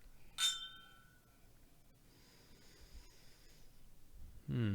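Glasses clink together once in a toast, a bright ringing chink that fades over about a second, followed by quiet room noise and the start of a voice.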